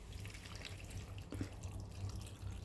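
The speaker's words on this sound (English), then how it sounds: "I'm also going to add water. So I add like this much of water." Water is poured into a cooking pan while pav bhaji cooks, a quiet trickle and splash close by that carries on softly throughout.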